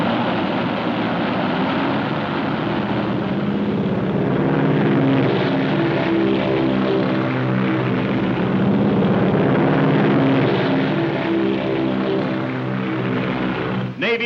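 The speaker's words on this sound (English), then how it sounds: "Navy planes roared from the decks of our carriers, army bombers, Marines, thundered destruction over a 300-mile battle area." WWII Navy carrier planes and army bombers over a Pacific battle area, a loud, continuous propeller-engine roar that drones steadily throughout.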